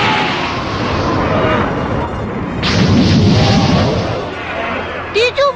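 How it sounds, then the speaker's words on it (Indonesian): Animated robot blowing up after being crushed by collapsing building rubble in the Dragon Ball GT anime, a loud rumbling explosion with debris that swells midway, followed by a few sharp electronic chirps at the end. "Di sini robot milik Mochi tiba-tiba meledak akibat telah tertimpa reruntuhan bangunan"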